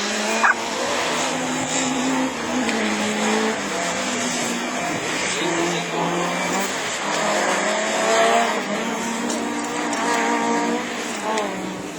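Super 1600 rallycross cars roar past continuously at Lessay with high-revving engines and some tire squeal, loud and close throughout, with a crowd or commentary faintly underneath.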